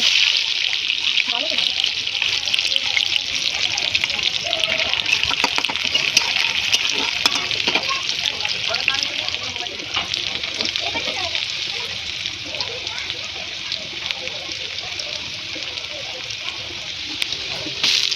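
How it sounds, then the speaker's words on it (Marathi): Onion and tomato sizzle in a kadhai over crackled mustard seeds, a steady, dense frying hiss throughout with faint stirring and spatter, while a person talks over it. "कढईमध्ये राई तडतडली की आपल्याला लगेच त्याच्यामध्ये कांदा आणि टोमॅटो टाकायचा आहे"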